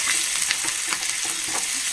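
Crushed onion and curry leaves hit hot coconut oil in a pan, giving a loud, dense, continuous sizzle with crackles and faint stirring scrapes throughout.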